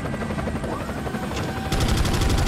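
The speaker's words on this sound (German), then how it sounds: "Nicht aber etwa den Helikopter." Helicopter in the video game Resident Evil 4, a steady rotor drone layered with game effects, growing louder and denser near the end alongside rapid gunfire-like bursts, no talking.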